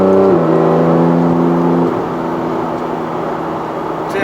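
A 2015 Porsche 911 GT3 RS naturally aspirated engine revs hard at high RPM in PDK Sport, its rising harmonics climbing steadily before a shift drops the pitch and it pulls again, loud and close from inside the cabin.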